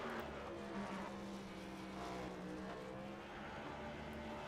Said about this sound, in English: Are we going to see dual burnouts?